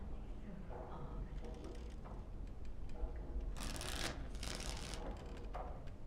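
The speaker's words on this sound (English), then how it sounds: "Before we start, the cards must be shuffled." Playing cards are shuffled for a round of Wicked Grace in Dragon Age Origins, with several quick riffling bursts over a low background hum.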